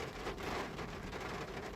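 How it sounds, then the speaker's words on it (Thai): Heavy rain pours down outdoors during a storm, a steady, dense hiss that holds evenly throughout with no voices over it. "ได้ยินเสียงฝนตกอย่างแรงนะครับ"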